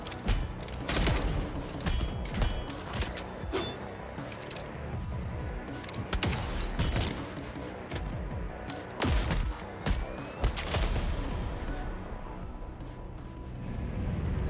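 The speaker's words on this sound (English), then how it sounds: "what the fuck was that flashbang?" Explosions and gunfire in a video game include a flashbang grenade, with sharp broadband blasts and bursts of shots hitting repeatedly and loudly in irregular clusters, one bright ringing burst standing out near the end.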